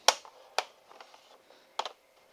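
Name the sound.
old credit card run along a laptop keyboard enclosure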